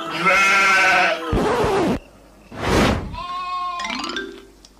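Sheep in an animated cartoon bleat loudly and up close, several separate cries in a row with short gaps between them and nobody talking.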